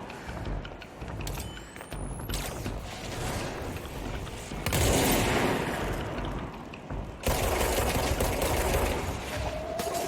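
A charged weapon fires in the video game Control, with loud bursts and a booming blast midway. A heavier, sustained roar follows, over a busy mechanical game background.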